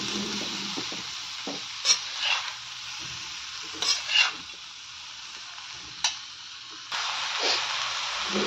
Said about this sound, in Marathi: आता कोबी सगळा टाकला, आता कोबी मिक्स करून घ्यायचा।